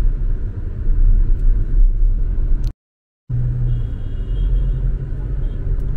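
A car drives through heavy office-hour traffic on the Panchkula–Shimla road, its interior carrying a steady, loud low rumble of engine and tyres that cuts out for a moment before resuming.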